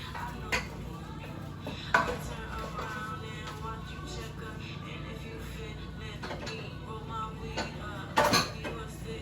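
Curry is stirred in a pot as it simmers, with soft scraping and clinks of a utensil against the pot over a steady low bubbling, a couple of sharper knocks standing out.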